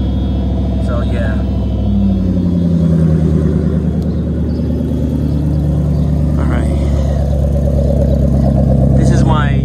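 Mercedes-Benz W124 E420 V8 with an aftermarket muffler rumbles loudly at a steady idle, with a slight rise in revs partway through. A person talks over the deep, continuous engine drone.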